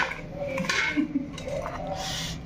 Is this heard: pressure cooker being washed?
yes